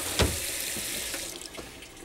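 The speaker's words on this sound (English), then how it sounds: "I've got to rinse your fork off." Water running from a kitchen tap as a fork is rinsed, a steady hiss of flow with a short clatter at the start and a few faint knocks.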